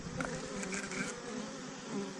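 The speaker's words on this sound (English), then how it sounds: "every time you kill a bee, it causes them to get a little more angry" Angry honeybees buzz loudly and steadily close by, a dense swarming drone around a beekeeper with rapid wingbeat flutter and no voices.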